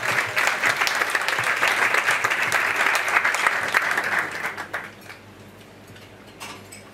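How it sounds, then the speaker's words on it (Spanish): Diners at a Christmas dinner and awards night applaud warmly for about five seconds, the clapping thick and lively before tapering off into a quiet room with a few stray claps. "Un aplauso, por favor, para Miriam."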